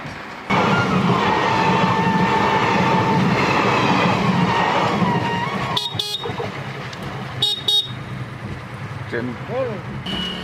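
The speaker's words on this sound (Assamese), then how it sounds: "ট্ৰেইন আহি আছে, গ্ৰীণ লাইট জ্বলি গৈছে" A train rumbles past a level crossing with a continuous rolling clatter, loud and near, fading toward the end as a few horn-like tones and bursts of noise appear.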